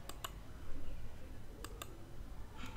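Computer mouse clicks on a Shopify admin panel: a few sharp, faint clicks, a quick pair at the start, another pair midway and one near the end, over quiet room hum.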